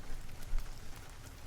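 Steady rain falls in a soft, even patter with occasional slightly louder drops, faint and continuous with no voices.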